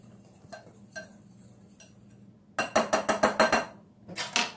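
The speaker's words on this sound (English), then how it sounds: "You will mix your flour, salt, and baking powder. And you will whisk it all together." A whisk beating flour, salt and baking powder together in a bowl: a few light taps first, then a quick run of about eight rhythmic metallic scrapes and clinks, close and clear, with another short burst at the end.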